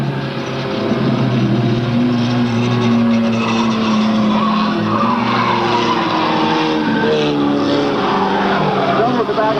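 Race cars roar around a track at a 1998 road racing event, engines loud and sustained with tire squeal, under continuous race commentary.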